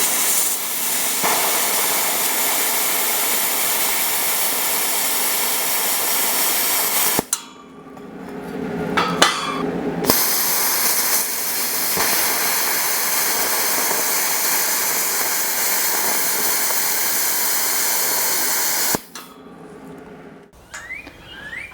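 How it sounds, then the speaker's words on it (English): A plasma cutter slices through steel cross supports for a welding cart, a loud, steady hissing roar running for long stretches, broken by two short pauses with clanks before the cut resumes. "then I'm going to cut the rest of it with the plasma cutter in 2 passes to notch it out"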